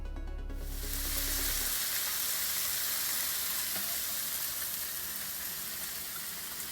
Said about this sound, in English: Add pork chops to the pan. Cook 5 minutes on each side or until desired degree of doneness.